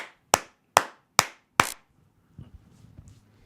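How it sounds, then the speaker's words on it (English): Four sharp, evenly spaced hand claps ring out close by, followed by a quiet stretch with faint shuffling noises. "Do some claps."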